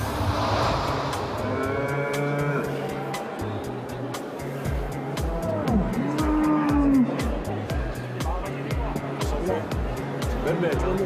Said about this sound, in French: des vaches par dizaines, des moutons, des cochons, des producteurs venus de toute la France